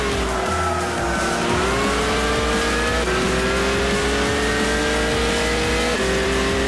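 A race car engine in the racing game Gran Turismo 6 revs loudly and continuously, its pitch climbing and then dropping at each gear change. The synthetic, mechanical-sounding drone fills the whole stretch with no voices.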